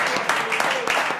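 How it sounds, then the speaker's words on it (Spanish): Audience clapping at a talk in Gijón, a short burst of hands mixed with voices, with people speaking over the applause in the room. "Bueno, un aplauso."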